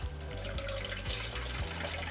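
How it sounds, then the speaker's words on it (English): Coconut water is poured from a carton for a strawberry banana smoothie, a faint steady liquid trickle heard close with no speech. "We're going to need 2 cups of our coconut water."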